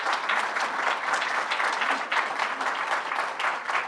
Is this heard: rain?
no